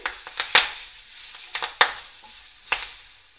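Lemon rice seasoned with turmeric and asafoetida being stirred in a pan, heard as a handful of sharp scraping strokes and light clinks spaced irregularly over a soft sizzle, close and fairly quiet, with no voices.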